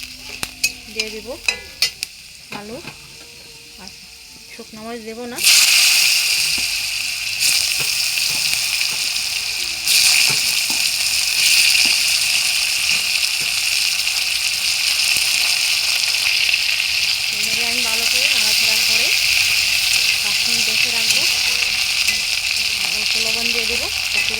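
Ginger frying and being stirred in hot oil with bay leaves for a vegetarian paneer curry, a steady loud sizzle that bursts in after a few quiet seconds of faint clinks and holds on, with a voice talking now and then.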